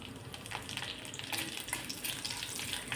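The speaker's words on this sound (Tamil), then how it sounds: "வெந்தயம், கறிவேப்பிலை எல்லாமே பொரிஞ்சு வர தொடங்குதுங்க." Mustard seeds, fenugreek seeds and curry leaves spluttering in hot oil, a close crackling sizzle dotted with quick sharp pops throughout, fairly quiet, with no voices.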